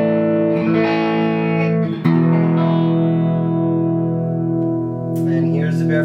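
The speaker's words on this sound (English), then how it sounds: "So here is my clean tone." A clean electric guitar tone, played through a Strymon Flint spring reverb into a hand-wired AC-15 amp, rings out as sustained chords with a reverberant tail. The notes are loud and continuous, and no voice is heard over them.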